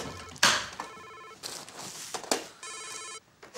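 A telephone rings in repeated electronic bursts with short pauses between them, fairly clear in a quiet indoor scene, with faint background movement.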